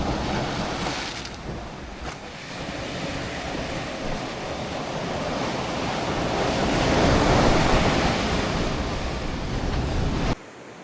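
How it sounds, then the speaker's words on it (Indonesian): Surf rolls continuously onto the sand at Pantai Watu Bela, a beach in Sumba Barat, with steady broadband wash swelling louder toward the end, wind buffeting the microphone throughout, and no voices. "Enjoy dulu lah Pantai Watu Bela."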